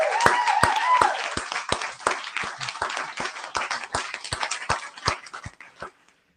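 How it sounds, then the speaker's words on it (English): A short burst of applause for a guest on a fantasy football show, steady claps in a regular rhythm that thin out and stop after about six seconds, with a faint whine early on. "Let's give a round of applause for Mr."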